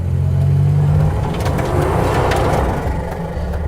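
A 1987 Buick Grand National revs hard and loud, the engine note climbing as the tires slide, then holding a strained, roaring drone to the end.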